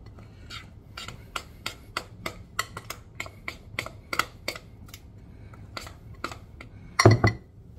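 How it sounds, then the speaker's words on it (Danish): Brownie batter being stirred in a bowl, giving a series of sharp clinking and scraping taps of spoon against the bowl at an uneven pace, ending in a louder burst of knocking. "Nu er den simpelthen rørt rundt"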